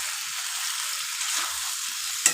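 Spice masala frying in a pan, a continuous dense sizzle at an even level with one brief scrape near the end, close by and with no one talking.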